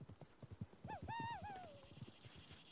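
Horse in the video game Red Dead Redemption 2 gives a loud rising-and-falling whinny over a run of clip-clopping hooves, fairly close and quiet overall, with no talk.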